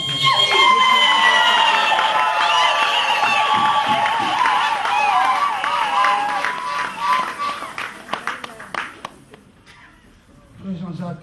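A wedding congregation erupts in loud cheering and acclamation, a dense crowd roar with whoops and some clapping that swells and then fades out near the end.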